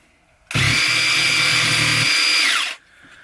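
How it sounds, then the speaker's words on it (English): A Ryobi One Plus cordless jigsaw revs up abruptly, cuts in a loud, steady whine for about two seconds, then winds down and stops. "So a jigsaw is not the right job for this."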